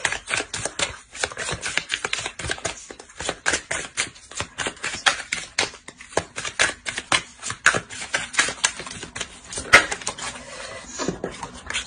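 Tarot cards shuffled and laid out during a reading, giving a long, steady stream of close, dry flicks and riffling slaps that come in rapid uneven bursts with no voice over them.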